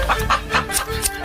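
A chicken clucks in a short burst of several quick, close clucks and squawks, fairly loud, with no talking.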